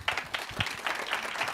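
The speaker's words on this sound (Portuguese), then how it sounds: "Salva de palmas." Audience applause after a talk at a business association lecture in Novo Hamburgo, a short burst of moderately loud, uneven clapping from a modest crowd.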